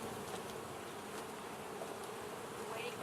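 Dense, steady droning hum of honey bees at an open hive, close and continuous with no pauses.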